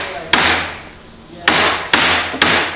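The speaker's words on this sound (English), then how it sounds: "Why are you using such a small hammer?" A small hammer strikes a wooden crate four times, sharp loud close blows spaced unevenly, each ringing briefly into a noisy background.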